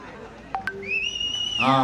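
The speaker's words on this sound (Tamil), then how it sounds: "விசில் அடிக்கிறவங்க தான்." A sustained, piercing whistle rises over a murmuring crowd at a Tamil Nadu political rally, holding for under a second before general crowd noise swells.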